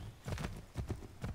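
Horse hooves clip-clop at a steady trot while riding through the frontier in the video game Assassin's Creed III, three clear bursts of paired hoofbeats close up with no talk.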